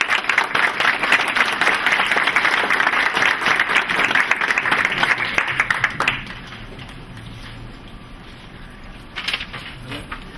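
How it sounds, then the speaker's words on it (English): Warm round of audience applause at a school board meeting, dense steady clapping for about six seconds that then fades to scattered claps and room quiet. "one more round of applause"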